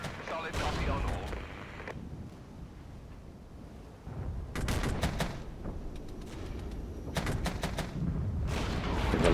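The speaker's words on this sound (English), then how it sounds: "The long range shots coming in from the side there onto the T-72s." Gunfire from the military strategy game Regiments, with repeated bursts of shots and distant booms sounding in clusters, loud and dense, over steady battlefield rumble.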